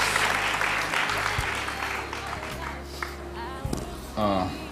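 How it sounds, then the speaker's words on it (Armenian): Applause from the audience at a televised singing contest, a steady wash of clapping across the whole clip with a few sharper claps near the end. "ժպիտի համար առանձին ծափարություններ"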